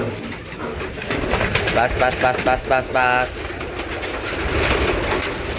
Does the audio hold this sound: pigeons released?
yes